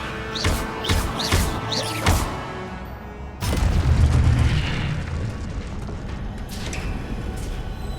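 Incendio fire spell cast in Hogwarts Legacy, a burst of booming, roaring flame that swells in, preceded by a run of sharp spell pops and whooshes, then rumbling on steadily to the end.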